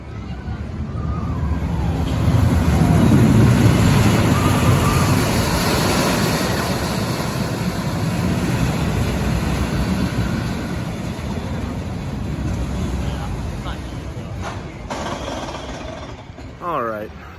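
Boomerang roller coaster ride at Darien Lake, a loud continuous roar and rattling of the train with wind rush and distant crowd babble, building early then easing toward the end.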